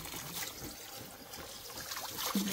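Water trickles and dribbles from a mountain stream along an ultramarathon trail, a faint, steady babble with no voices.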